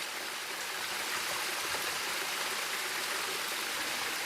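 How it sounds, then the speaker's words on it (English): Waterfall and rippling creek at a mountain gold-mining camp, a steady broad rushing wash of water close by, continuous and unbroken with no voices. "Waterfall is waterfalling. The ripples are rippling."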